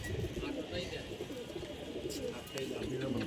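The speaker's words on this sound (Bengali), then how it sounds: "এই খাকি কবুতর মকিমবাজার ক্লাব থেকে আসা আটটি কবুতর" Khaki pigeons from the Mokimbazar club cooing in a loft, a steady low murmuring that runs throughout, with a voice talking over it.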